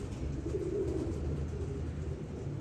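A pigeon, daughter of pigeon number 88, coos in a soft continuous low murmur close by, over steady outdoor background noise.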